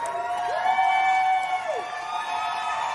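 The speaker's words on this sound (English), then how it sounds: "I want to show you the thunderous applause that Justin Jones received when he went back" Crowd cheering and whooping in the Tennessee House chamber as a returning state representative walks in: sustained, high-pitched, tonal crowd noise holds steady throughout and swells in the middle.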